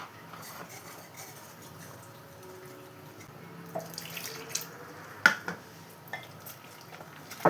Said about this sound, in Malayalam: ഇനി ഇതിലേക്ക് കുറച്ചായിട്ട് വെള്ളം ഒഴിച്ചിട്ട് ഇതൊന്ന് കലക്കിയെടുക്കണം.